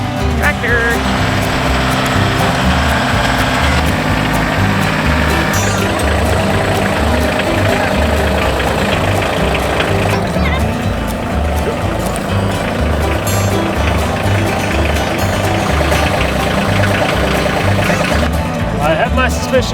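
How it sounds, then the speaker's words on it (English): A tractor engine runs steadily with a low, rhythmic throb through a farm setting among hay bales after dark, continuing loud throughout with people talking over it. "Tractor!"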